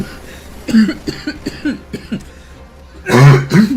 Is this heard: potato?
no